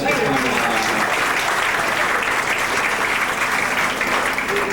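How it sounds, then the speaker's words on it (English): Loud, sustained applause from a banquet audience before a New Year's celebration, a thick wash of many hands clapping continuously at close range. "would you please give him a round of applause?"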